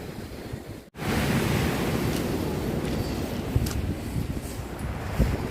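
Black Sea waves wash onto the shore in a steady, continuous rush of surf with wind noise on the microphone, starting after a brief cut near the beginning.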